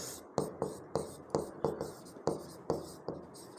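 Pen strokes on paper from handwriting a geometry trigonometry problem, a series of close, quiet scratchy bursts in an uneven rhythm with faint pauses between, no talking over them.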